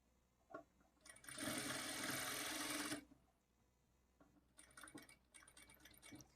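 A sewing machine stitches a blouse seam in one steady run of about two seconds, fairly close, then stops; softer handling clicks and fabric rustle follow.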